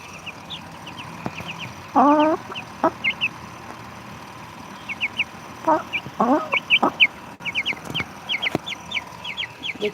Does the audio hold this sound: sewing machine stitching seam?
no